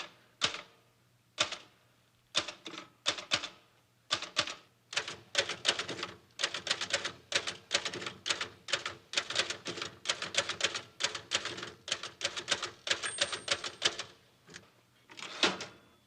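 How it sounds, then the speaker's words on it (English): Keys of a typewriter clack in irregular bursts, sharp close strikes coming in quick runs with short pauses, now and then a heavier thunk, with no voices over them. "And typing."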